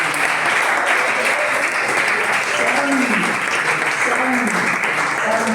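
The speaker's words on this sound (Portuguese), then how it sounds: "Um aplauso para essa" Congregation applause fills a church during a sermon, a steady dense wash of clapping with voices calling out faintly over it.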